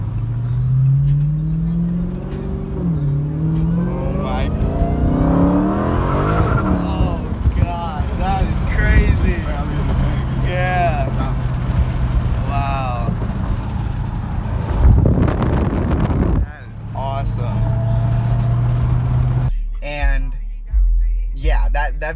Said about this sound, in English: All you hear is just the spinning of the wheels